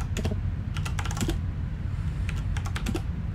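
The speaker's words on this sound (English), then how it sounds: "I do like my new keyboard." Quick bursts of typing on a new computer keyboard, clustered clicks in two short flurries separated by a pause, close and clear over a low steady background hum.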